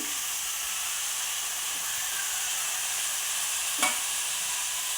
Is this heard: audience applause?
no